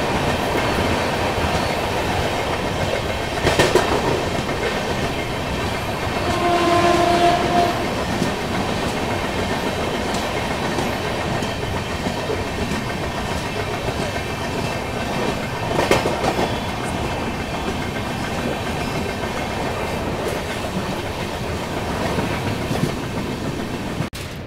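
A Duronto express runs through Ongole station without stopping, heard from on board as a loud, sustained rumble with rhythmic wheel clatter and a brief squeal of wheels partway through.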